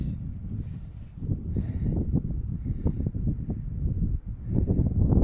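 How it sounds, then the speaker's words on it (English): Gusty wind buffets the microphone at an exposed hilltop campsite on Brown Clee Hill, low rumbling blasts rising and falling in strength, with faint rustling over it. "It is really quite windy here"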